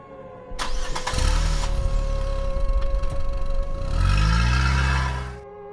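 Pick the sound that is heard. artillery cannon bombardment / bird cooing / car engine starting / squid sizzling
car engine starting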